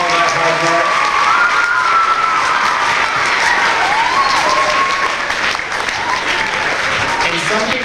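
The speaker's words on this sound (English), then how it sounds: "can we just give a nice round of applause to our 4th and 5th graders for doing all that hard work?" Audience applause for 4th and 5th graders at a school Arbor Day event, loud sustained clapping from a crowd with some cheering and children's voices mixed in, lasting throughout.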